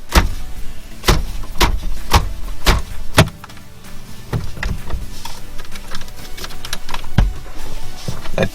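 A Mazda MX-5 steering wheel is struck from behind to loosen it, giving a series of sharp, loud knocks at uneven intervals, some in quick pairs, against a low background hum.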